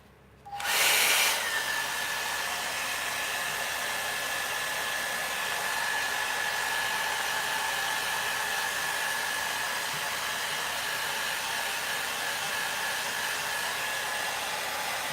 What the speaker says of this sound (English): Feel for the hairdryer again.